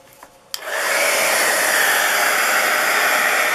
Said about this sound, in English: I'll just show you quickly what it looks like when I take a heat tool